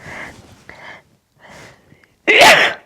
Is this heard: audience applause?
no